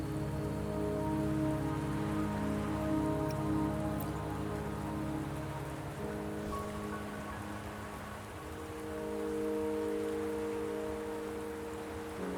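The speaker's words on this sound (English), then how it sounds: "Don't worry, the rain won't last much longer." Steady rain falls in the video game Wuthering Waves, a dense, even hiss that runs the whole time alongside low sustained tones, with no voices.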